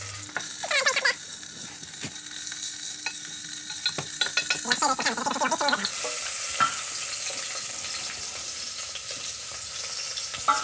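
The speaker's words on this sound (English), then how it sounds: "fry the beef trimmings for a few minutes until brown on all sides" Beef trimmings fry in oil in a large pan with shallots, peppercorns, bay and thyme, a steady close sizzle running throughout, broken early on by a few clattering stirs and scrapes.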